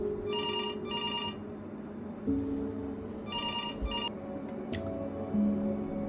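An old-style telephone bell rings in repeated double bursts inside the video game Before Your Eyes, sounding fairly close over a low ambient musical drone, with no speech.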